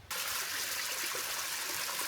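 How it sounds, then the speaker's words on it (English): Creek water trickles and rushes in a steady, dense wash, close and continuous after a brief quieter start, with no voices over it. "let's see what this creek looks like"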